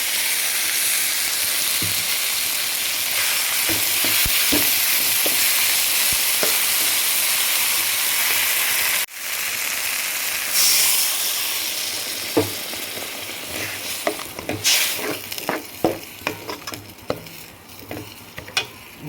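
Masala with green chilies sizzles and fries steadily in a pan while being sautéed for egg kurma, with intermittent stirring clicks and scrapes; a brief break midway, then lighter crackling with sharper stirring taps, no talking.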